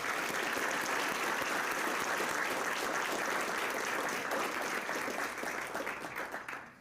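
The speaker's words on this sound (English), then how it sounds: "I'd like to ask for a round of applause at this time for their support." An audience at a congressional luncheon gives a sustained round of applause, dense clapping filling the room and then thinning and fading out near the end.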